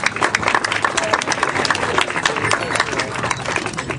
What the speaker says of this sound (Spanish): Buenos aplausos para ellos.